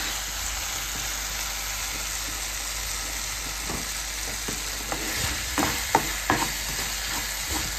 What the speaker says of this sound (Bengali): এবার একটু নেড়ে তারপরে এটাতে আমি একটু জল দিয়ে দেবো, কারণ এই সবজিগুলো একটু সেদ্ধ হবে তো।